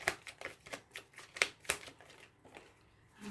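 Tarot cards are drawn and shuffled, giving a run of soft papery flicks and snaps, close and fairly quiet, with a few sharper slaps near the middle and no talk over them.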